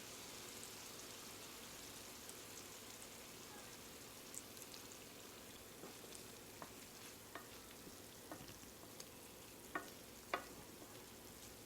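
Soy sauce hits a hot pan of chicken and shrimp lo mein, giving a steady close hiss of frying with scattered sharp crackles and pops that grow more frequent toward the end.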